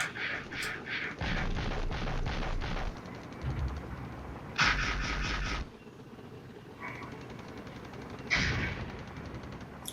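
Tank guns fire in the Cold War strategy game Flashpoints Campaign, several loud booming shots and bursts in irregular succession, some in quick clusters, with no talking.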